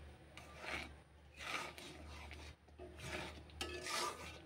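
A spoon scrapes and rasps against a pan while a jaggery sandesh mixture with chopped raisins is stirred over low heat, soft rhythmic strokes close by, no talk.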